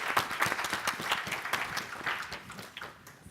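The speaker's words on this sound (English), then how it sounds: "Oh, now they clap." Scattered audience clapping at an academic conference session, moderately distant and uneven, fading gradually over a few seconds.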